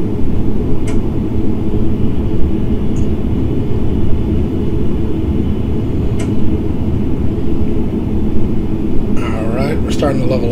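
ATR72-500 turboprop engines in the Prepar3D flight simulator, a steady loud droning rumble held throughout with no clear change in level, faint clicks on top and a brief burst near the end.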